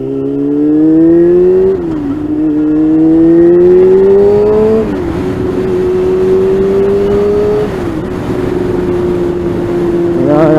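A first-generation Yamaha R6 sport bike on the move, its engine note climbing through the revs, dipping at each of several gear changes, then holding steady, loud and close under wind noise.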